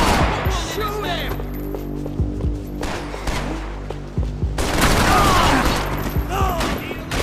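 Gunfire in the video game Max Payne 3 during a firefight: dense bursts of shots and booming impacts layered under loud game music, with shouting voices mixed in throughout.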